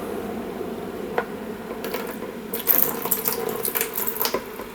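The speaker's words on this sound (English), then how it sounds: "You can just see the water just running off it" Tap water runs over a dry fly treated with a floatant. It makes a soft, steady trickle with small splashy bursts that swell toward the end, with no talking.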